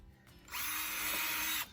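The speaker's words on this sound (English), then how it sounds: "I'm going to just drill 1 hole on each board and tack it in on one side" A power drill whirs steadily for about a second as it bores a hole into a pallet wood board, starting and stopping abruptly, close and fairly loud.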